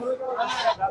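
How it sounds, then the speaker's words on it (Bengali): Goats bleat close by at a busy livestock market, a couple of wavering cries cutting through crowd noise and nearby voices. "এদিকেও ছাগল আছে"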